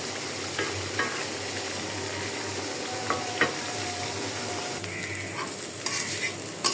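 Beef bhuna stirred and fried in a pan, with a steady sizzle and the scrape of a spoon moving through the meat, close and continuous without any talk.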